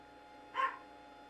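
A dog gives a single short, faint bark in an otherwise quiet indoor room.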